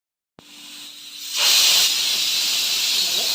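A pressure cooker hisses steadily while cooking lumps of food, with a faint tone at first and then a loud, broad whistle of steam that keeps going to the end.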